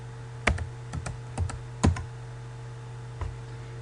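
Keystrokes on a computer keyboard while entering an Excel formula, a handful of sharp separate clicks at uneven intervals over a faint steady hum, with no talking.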